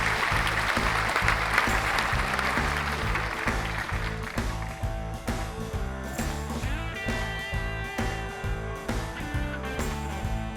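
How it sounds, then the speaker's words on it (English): Audience applause for hackathon winners at a 2019 tech conference keynote, steady clapping over loud rhythmic background music that carries on as the applause thins. "Big round of applause for them."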